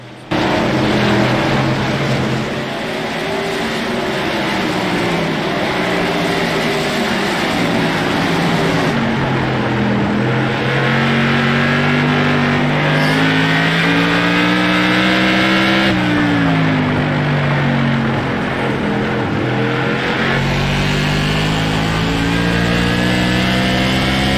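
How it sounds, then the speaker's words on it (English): Race car engines roar and rise in pitch as they accelerate under green flag at Stafford, a loud, continuous howl with shifting gears and passing cars throughout. "Bring you some more sounds from these cars since we got some green flag action going on"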